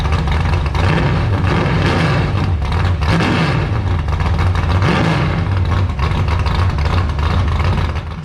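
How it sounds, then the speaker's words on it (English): A super truck engine fitted with new racing mufflers rumbles steadily and loudly for the whole stretch. Its deep idle swells into a couple of brief revs midway, with no talking over it. "That motor sounds so much happier with those mufflers on it."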